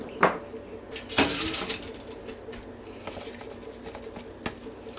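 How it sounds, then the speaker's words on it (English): An egg is lightly beaten in a bowl for a fried-onion chicken coating, producing scattered quick taps and clinks of utensil against dish, close and fairly quiet, with irregular pauses. "Beat your egg a little bit."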